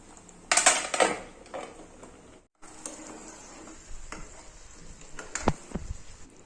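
A metal lid clanks onto a pan of mustard hilsa curry, with loud clattering bursts near the start and again toward the end, and softer rattles and scrapes in between.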